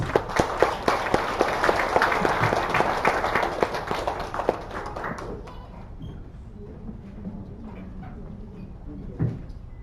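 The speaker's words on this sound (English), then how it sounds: "Let's give them a round of applause." Audience applause at a mangrove-planting milestone award ceremony, a dense burst of clapping from a crowd that swells loudly for several seconds, then thins and fades into quieter room murmur with a few scattered claps.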